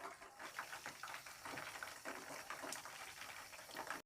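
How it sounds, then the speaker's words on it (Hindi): Chicken pakora pieces frying in hot oil give a steady, faint bubbling sizzle with soft crackles throughout, heard close with no talk. "हम अब जो बाकी चिकन बच गया था उसको भी हम फ्राई कर लेते हैं।"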